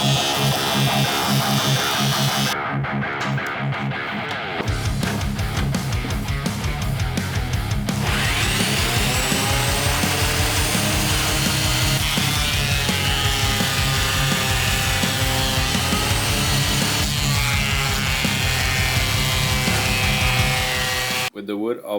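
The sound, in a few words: planing recycled wood to even thickness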